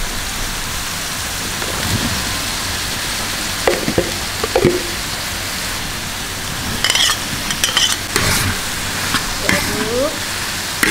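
Tempeh and shrimp frying in a large wok, a loud continuous sizzle with scattered scrapes and clatters of a spatula stirring.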